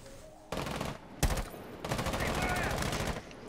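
Gunfire in Rainbow Six Siege, loud bursts of rapid automatic fire with a sharp single shot between them, while players talk and shout over the action.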